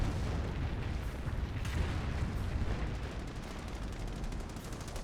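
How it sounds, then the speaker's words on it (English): Calliope rocket artillery barrage in Company of Heroes 1, a dense, continuous rumble of explosions and booming impacts, loud and sustained with no talk. "Here comes another Calliope rocket barrage."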